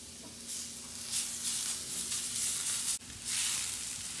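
Garlic sizzles in about a tablespoon of olive oil in a pan, a soft continuous frying hiss with gentle swells and a brief dip near the end.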